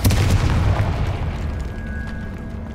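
A Confringo fire spell bursts in the video game Hogwarts Legacy, giving a loud, deep booming blast that rumbles and slowly fades over a few seconds, with no voice over it.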